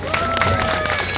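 A brief burst of crowd applause and cheering for the leader of a fire dance troupe at an outdoor festival show, loud and close, with faint tonal sounds running underneath.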